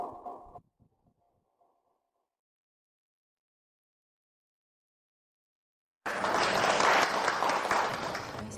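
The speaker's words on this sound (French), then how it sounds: "Applaudissons Ziao et son parent pour recevoir le prix." Audience applause for a prize winner at a craft contest ceremony, bursting in loud and dense after a brief voice and a long silence, then holding steady to the end.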